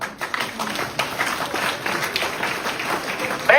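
An audience at a political speech claps in a steady, dense round of applause that lasts the whole stretch. The sound is moderately close, with a voice briefly rising at the very end.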